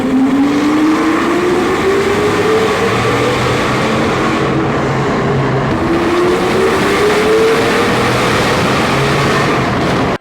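A small Fiat drives along a highway at around 50 km/h, shaking, with a steady loud road and engine drone and a gently rising engine tone throughout.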